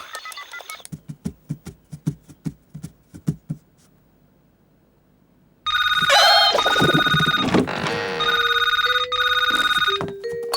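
A cartoon telephone call home: a quick series of sharp dialing clicks, a short pause, then a loud electronic ringing with bright warbling tones that continues steadily to the end.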